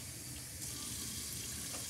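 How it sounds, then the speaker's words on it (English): A bathroom sink faucet runs in a care setting, water pouring steadily to rinse a used urinal; a soft, even hiss continues without pause, fairly quiet, with no voices. "I'm gonna go to the sink."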